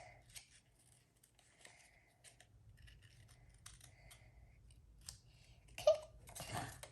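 Scissors cutting around the outside of a paper card shape for a pop-up spring card: faint, intermittent snipping and rustling clicks, growing louder with a sharp snip near the end, alone without talk.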